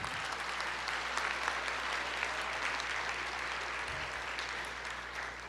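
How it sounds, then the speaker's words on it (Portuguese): A church congregation applauds during a worship service: steady, dense clapping at an even level from start to finish, with a low hum underneath. "Pode aplaudir, libere o seu louvor, a sua adoração."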